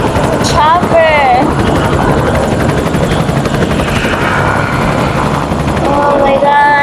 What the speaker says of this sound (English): It's a chopper.